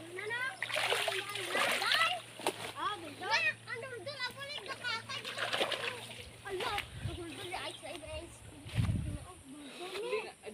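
Water splashing and sloshing in a river in Negros Occidental, bursts of splatter repeating through the scene, under near, constant talk and children's voices.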